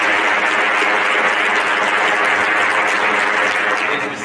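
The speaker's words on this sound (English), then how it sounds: "Let's give him a big round of applause" Commencement audience at a fall graduation ceremony applauding the valedictorian: a dense, steady wash of many hands clapping at once, loud and sustained throughout with no break.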